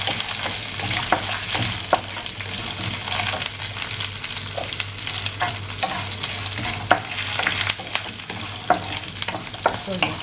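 Red chilies for tamarind rice fry in hot oil, sizzling steadily while a spoon scrapes and stirs them in repeated sharp clatters.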